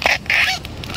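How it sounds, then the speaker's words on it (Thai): A duck quacks in two short nasal bursts close by, then fainter calls trail off amid a little background noise. "เป็ด"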